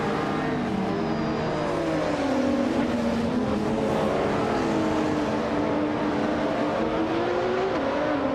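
Several racing car engines drone steadily in a video game race, a classic Bugatti EB 110 supercar leading the pack, with layered whining engine tones rising and shifting continuously at high volume throughout.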